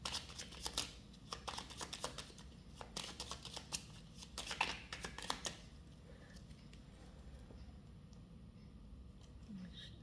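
Tarot cards are shuffled in quick, crisp riffling bursts for about five seconds, close and fairly soft, then the sound fades to quiet room tone.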